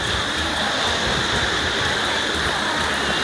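Mae Setthi waterfall in Ron Phibun, Thailand, rushing in a dense, continuous roar that fills the whole clip.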